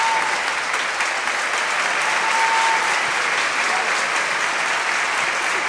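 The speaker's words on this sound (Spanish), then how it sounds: "un fuerte aplauso." Audience applause for a school folk ballet troupe at a Mother's Day concert: dense, steady clapping from a large crowd that stays loud and even for several seconds.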